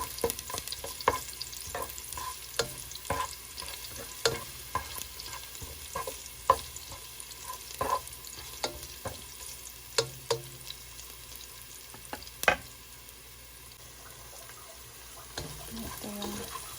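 Garlic and onion sautéing in a pan for a corn soup with shrimp and lobster, with a steady low sizzle under repeated sharp scraping and stirring clinks of a utensil against the pan, close and fairly quiet, with no talking.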